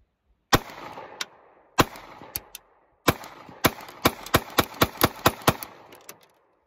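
Handgun firing twelve rounds outdoors, sharp loud cracks starting with a few spaced shots and then a rapid string of evenly paced shots, each with a short echoing tail.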